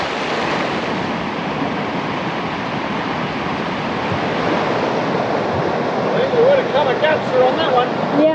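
Rapids on the John Day River roar continuously in a loud, broadband rush close by, steady and unbroken, with a voice speaking briefly over the water toward the end.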